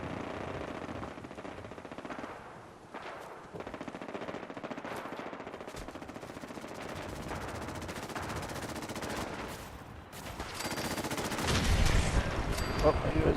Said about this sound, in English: that gunfire I think is what we're looking for